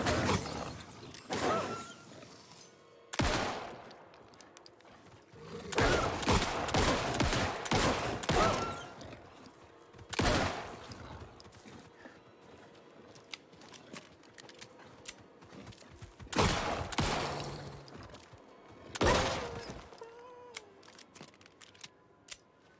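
Pistol gunfire in the video game Alan Wake 2, a series of loud separated shot bursts with mechanical clicks and creaks between them over a dark ambient game soundscape.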